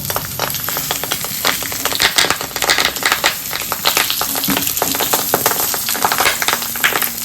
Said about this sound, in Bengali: এবারে সরিষার তেল দিয়ে দিয়েছি, লো আঁচে একটা একটা করে তার ভিতরে বসিয়ে দেব।